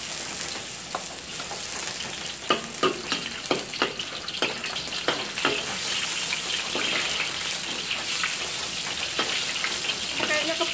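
Ginger fries in oil in a hot wok, making a steady moderate sizzle punctuated by a run of sharp spitting pops and clicks, with a faint voice briefly in the background.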